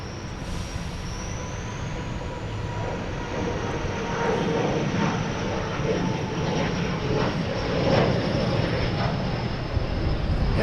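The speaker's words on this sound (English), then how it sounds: "Here's Delta and E175 heading to LaGuardia" A Delta Embraer E175 jet heading to LaGuardia from Boston Logan gives a continuous, fairly loud engine roar with a thin high whine, slowly building as it passes, with no talk over it.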